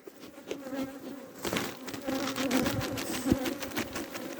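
Honey bees buzz around an opened hive, a dense, continuous hum of many insects close by with no talking.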